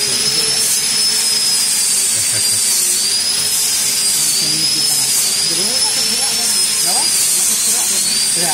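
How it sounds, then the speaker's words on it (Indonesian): Stainless steel welding on a Toyota Etios car wiper handle during repair, a steady loud hiss and crackle running continuously throughout with faint background clatter. "Las stainless."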